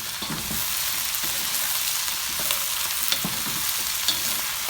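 Onions fry in a pan with a dense, even sizzle that stays close and steady, with a few faint stirring clicks and no voices.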